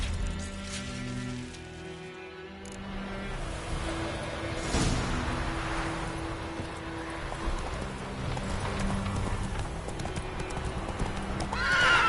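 Horse hooves clip-clopping and a horse neighing in The Witcher 3, with a whinny and snorting over steady hoofbeats and low ambient game background throughout, fairly quiet.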